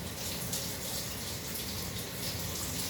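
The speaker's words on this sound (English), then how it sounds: "Rinse the knife." Running tap water pours steadily as a knife is rinsed under it, a continuous close splashing rush with no speech.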